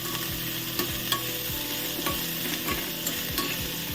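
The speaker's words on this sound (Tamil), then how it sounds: "இனி கறிவேப்பிலை போட்டு கொடுத்துட்டேன்" Curry leaves frying in oil in an iron kadai while being stirred, a constant bright sizzle with regular scraping strokes of the ladle about twice a second, close and alone without talk.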